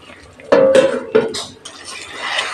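Metal spoon clanks and scrapes against a cooking pot as vegetables in a vegetarian coconut curry are stirred once the lid comes off, a few loud close clinks followed by a softer wet shuffle, no talking.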